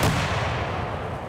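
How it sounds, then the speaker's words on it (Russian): A 2S3 Akatsiya tracked self-propelled howitzer firing at a military range, a single loud close boom that rolls off into a fading rumble. "Сегодня здесь работают самоходные установки 2С3 «Акация»."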